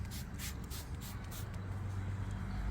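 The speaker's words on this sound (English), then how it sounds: "just spray it on here." Quick bursts of P&S Absolute rinseless wash sprayed onto a dirty car body from a bottle, several short hissing spritzes in the first second and a half, then a steady low hum.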